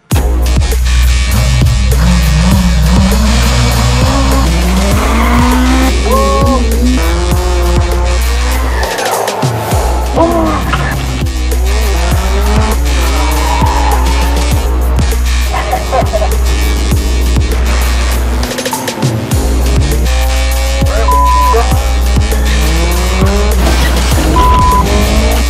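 Race car driving hard with tires squealing and skidding, a loud continuous engine drone broken by repeated high screeches of rubber, close and dominant throughout with no talk.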